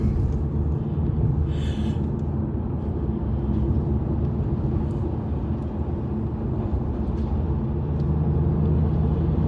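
Steady low road rumble from inside a vehicle driving past a truck, a continuous drone of tires and engine with no talking.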